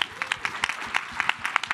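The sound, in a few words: audience applause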